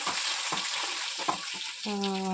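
Mustard seeds and cumin sizzling in hot oil for tempering, a dense crackling fry with soft stirring knocks, and a brief tonal hum near the end.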